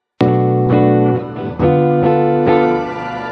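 A guitar runs fully wet through a Helix shimmer reverb, with octave-down and octave-up voices mixed equally, making a loud, smooth, synth-pad-like wash; a few chords swell in one after another and sustain alone.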